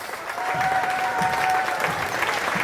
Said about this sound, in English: The applause starts.